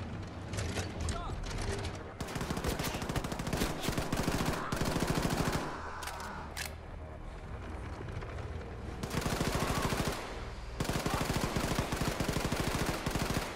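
Rapid automatic gunfire in the video game Wolfenstein II: The New Colossus, with loud sustained bursts broken by short pauses and mechanical clicks across the stretch, and a player talking at times.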